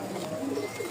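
Lotan pigeons sitting on eggs in a coop in Mirpur give a soft, close, rolling coo that runs through the short moment.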